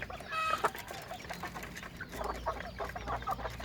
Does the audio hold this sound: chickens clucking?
yes